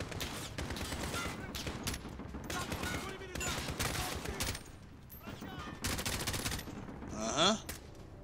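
Rapid automatic gunfire in Call of Duty Modern Warfare campaign on realism mode, dense bursts and volleys in near-continuous clatter, with voices talking over the shooting.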